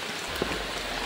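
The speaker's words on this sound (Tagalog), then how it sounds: "Umuulan dito ngayon." Rain falls steadily with an even, soft hiss of drops hitting surfaces nearby. It keeps going without voices.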